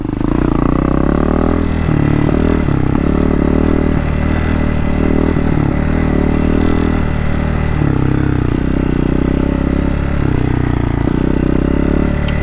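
A 2021 Hawk 250 DLX EFI motorcycle engine runs steadily while riding at dusk, a loud, continuous low drone whose pitch shifts slightly with changes in throttle.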